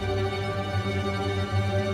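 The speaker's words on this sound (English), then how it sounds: "It's got a tremolo down the middle. It's just a shaking sound." Sustained string chord with rapid tremolo, the bowed notes shimmering and pulsing steadily without pause.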